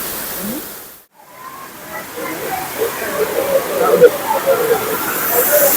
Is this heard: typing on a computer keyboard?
no